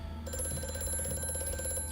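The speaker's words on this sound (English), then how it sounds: "Let's answer the phone for this guy" A telephone ringing in the horror game Amnesia: A Machine for Pigs, a rapid trilling bell that starts abruptly and rings steadily, moderately loud over a low background hum.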